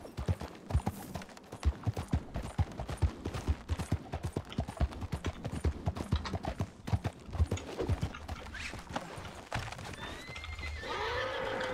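A horse gallops in the Western roleplay game RedM: a steady, rapid clip-clop of hooves close by throughout, with a whinny and a rising rush of noise toward the end.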